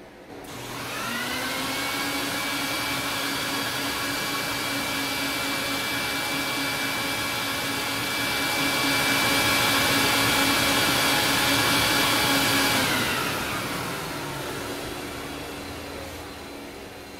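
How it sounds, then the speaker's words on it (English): A carpet cleaning extraction machine runs steadily on a wool rug, a loud continuous whining drone with sustained tonal hum that swells slightly midway, then spins down near the end, with no talking. "Listen how my machine working."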